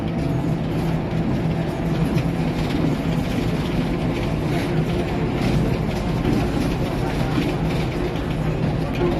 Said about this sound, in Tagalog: Ayan, daanan ng train.